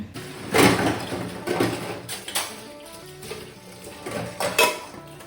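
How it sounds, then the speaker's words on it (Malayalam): Dishes and pots being washed by hand at a home kitchen sink, with scattered clinks and clatters of metal vessels, brief water splashes and scraping, coming in irregular bursts nearby with no talk. "കുറച്ച് പാത്രങ്ങളുണ്ട് കേട്ടോ കഴുകാൻ അപ്പോൾ അതൊക്കെ ഒന്ന് വേഗം കഴുകിയെടുക്കട്ടെ"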